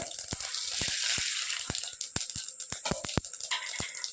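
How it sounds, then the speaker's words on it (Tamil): Mustard seeds with urad and chana dal crackle in hot oil, a steady frying hiss under sharp scattered pops, close and moderately loud, no talking. "கடுகு நல்லா பொரியுது உளுத்தம்பருப்பு கடலைப்பருப்பு"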